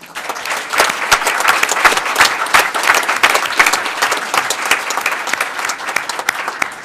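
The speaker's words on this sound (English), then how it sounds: "give a round of applause to all their families" Sustained applause fills a township council meeting as the audience claps for officers' families, loud and dense throughout with no break.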